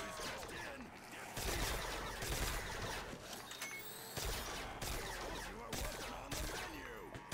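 Gunfire against zombies in Call of Duty: World at War custom zombies mode, with rapid bursts of shots in a dense, continuous barrage, fairly quiet overall, with some voices present.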